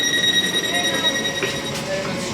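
Inside a crowded passenger train carriage, a steady rumble runs under thin, high tonal whines from the running gear, with muffled voices in the background.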